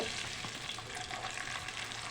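Tempering spices and onion pieces fry in about two spoons of hot oil, a soft continuous sizzle with faint crackles and light stirring throughout.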